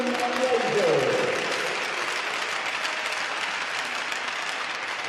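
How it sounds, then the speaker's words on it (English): A crowd applauds a senior player at a Fort Wayne amateur hockey game, steady dense clapping filling the arena throughout, with an announcer's voice briefly heard at the start. "please join me in one more round of applause for all the seniors we have here tonight"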